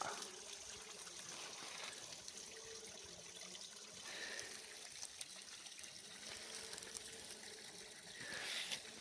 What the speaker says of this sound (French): On a le ruisseau là.